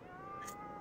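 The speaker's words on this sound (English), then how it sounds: "Look at all these cats." A single short cat meow from the video game Ghostwire Tokyo, heard alone over a faint steady hum of background game ambience.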